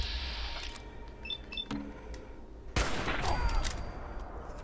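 Gunfire from the video game Fallout 4: a sharp, loud burst of shots cracks out partway through, followed by ringing echoes and a few smaller game effects, with quieter game ambience beforehand.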